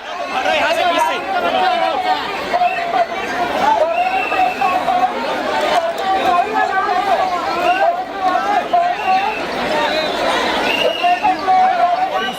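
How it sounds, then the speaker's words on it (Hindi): A dense crowd of pilgrims at Jhansi railway station in Uttar Pradesh fills the air with loud, continuous chatter and overlapping voices, a steady babble with no pauses. "झांसी में देखिए जरा भीड़ का आलम।"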